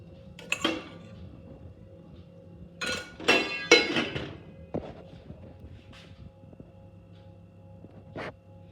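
Oil dropped onto hot charcoal placed over a bay leaf in a dish, followed by the lid being set down, giving a few sharp metallic clinks and clatters, then a quieter pause and a final single clink, close and fairly faint.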